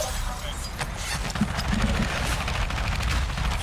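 Rapid gunfire from a shooter video game crackles in dense bursts over a steady loud game mix, with players talking over the action throughout.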